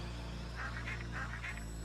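Honking duck-like bird calls from the video game Torinohoshi Aerial Planet, a run of about six short nasal honks over a steady game music drone, fairly close and moderately loud.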